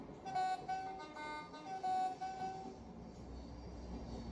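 A locomotive horn in the Train Sim World 5 driving game sounds two steady tonal blasts over a continuous rumble of a moving train, heard fairly close with no talking.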